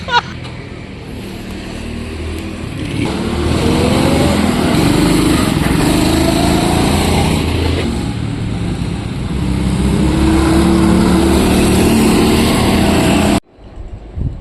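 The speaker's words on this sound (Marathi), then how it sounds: "त्याच्यात एक गाडी बंद पडली वाटतं, नाही रिपिंग झाली वाटतं" Vehicle engine noise at a cinema entrance area in Khopoli, a continuous loud droning rumble with rising revving tones that runs nearly throughout before cutting off abruptly near the end.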